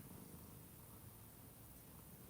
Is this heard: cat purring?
yes